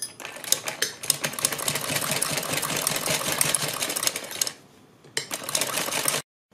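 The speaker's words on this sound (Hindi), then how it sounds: "यहाँ पर सिलाई लगाते हुए आएंगे" A sewing machine stitches a kurti in rapid, continuous mechanical chatter, close and fairly loud, pausing briefly before another short run, then stopping abruptly.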